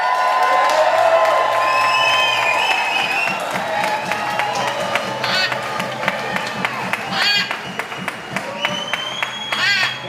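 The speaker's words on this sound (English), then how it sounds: "Let's give him a hand of applause." A large outdoor rally crowd on Kauai applauds and cheers for a speaker, sustained dense clapping with whoops and shouts rising over it, loud and close throughout.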